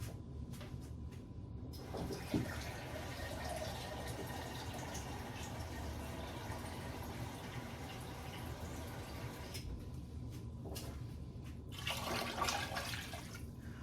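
Liquid poured into a soup pot of Thanksgiving leftover soup: a continuous splashing, gurgling stream running for most of the span, fairly quiet and close, with brief clinks at the start and end.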